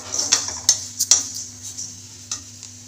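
Toor dal is dry-roasted in a pan without oil, with a handful of sharp scraping and clinking spoon strikes against the metal over a faint steady hum, and no talking.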